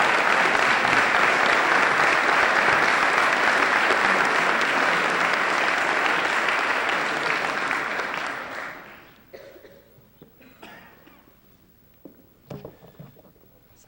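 Sustained, full applause from a dedication-ceremony audience honoring support personnel at Ball State's College of Architecture and Planning fades out after several seconds, leaving a quieter room with a few scattered claps and small noises.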